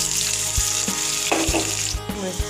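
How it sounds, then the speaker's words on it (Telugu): Onions with cloves, cinnamon, cardamom and bay leaf frying in hot oil for Andhra-style mutton curry, a loud, steady close-up sizzle with occasional soft pops and stirring knocks. "ఆయిల్ హీట్ అయిన తర్వాత ఇక లవంగా, చెక్క, ఇలాచి, బిర్యానీ ఆకు వేసుకోవాలి. ఉల్లిపాయ ముక్కలు యాడ్ చేసుకోవాలి."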